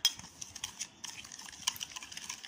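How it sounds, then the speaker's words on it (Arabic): A spoon stirs yeast and sugar into a couple of spoonfuls of milk, making faint, soft clinks and scrapes against the container in an uneven rhythm, quiet and close, with no voices. "حوالي كده معلقتين من الحليب ندوب بس فيهم كده الخميره والسكر"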